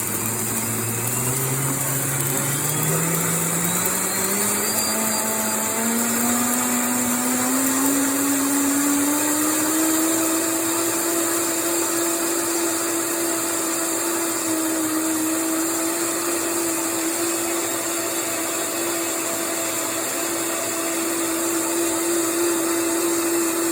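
Blender pulverizing eggshells, a loud continuous motor whine and grinding that climbs in pitch over the first ten seconds as it speeds up, then holds steady and near with no talking.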